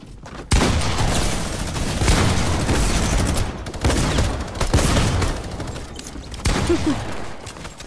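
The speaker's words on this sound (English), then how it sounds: "Oh, shotgun while they're in air." Heavy, booming shotgun blasts in the Fortnite video game come in a few loud bursts separated by short pauses, close and dense, with no talking.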